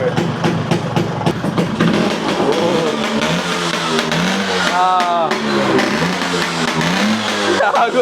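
A Vespa S125 scooter engine revs up loud and close, climbing and falling in pitch through several throttle blips, with voices talking over the din.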